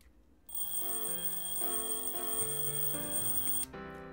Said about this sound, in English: I turn off my alarm